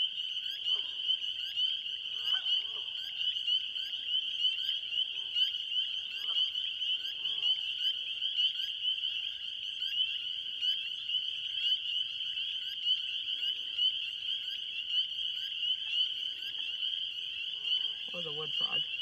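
Frogs croak and trill at night in a marsh, a loud unbroken chorus holding steady throughout, with faint human voices and scattered low sounds beneath it.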